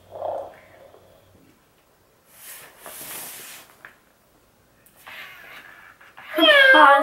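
A robotic orange tabby toy cat from Joy for All gives a short meow and a soft purring rumble, then quieter whirring stretches, ending with a louder electronic meow up close.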